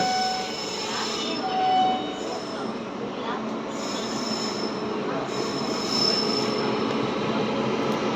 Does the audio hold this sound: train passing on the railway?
yes